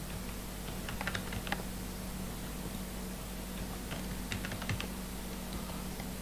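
Close, crisp keyboard typing while entering a login at a D-Link DIR-612 router setup, clusters of quick keystrokes with short pauses over a steady low hum.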